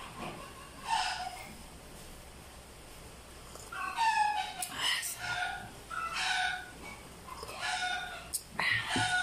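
Several chickens cluck and squawk in short bursts at a moderate distance, with scattered calls overlapping across the scene.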